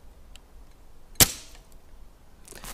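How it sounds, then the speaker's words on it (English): A single sharp crack from a Cometa Lynx V5 air rifle firing a pellet into a wooden log pile a few feet away, followed by a faint rattle a moment later; nobody speaks. "I'm just going to shoot into this log pile here."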